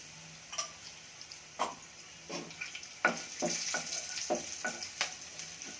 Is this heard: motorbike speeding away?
no